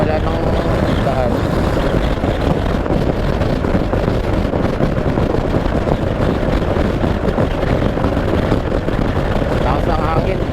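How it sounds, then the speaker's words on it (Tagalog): Strong wind buffets a microphone on a boat trip toward Basaw Lake, Cabasan, Peñablanca, a loud, constant roar filling the whole stretch with a steady motor drone beneath. "Lakas ng hangin, sana ano,"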